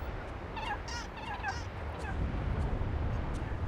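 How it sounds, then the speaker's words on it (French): A hen clucks and calls in a short burst of warbling notes, then quiets into a steady low rumble of background noise. "Cette poule est arrivée bien après les autres."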